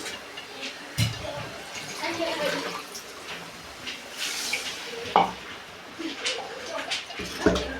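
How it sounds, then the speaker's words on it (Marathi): Water is poured into a pan of fresh green pea curry (matar aamti), giving a soft, fairly quiet splashing hiss with light sizzle and a few clinks from the pan. "पाणी टाकू आपण"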